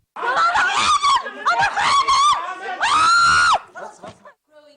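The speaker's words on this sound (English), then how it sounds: "The presenter's scream became an internet sensation." A television presenter screams during an armed troop raid on a studio in Egypt, captured in a broadcast recording: loud, high, strained cries in several bursts, with a crowd-like clamor around them.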